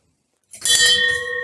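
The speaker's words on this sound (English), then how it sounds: "a last orders bell for the podcast" A last orders bell rings once, struck sharply after a moment of silence, with a bright metallic ding that hangs and slowly decays.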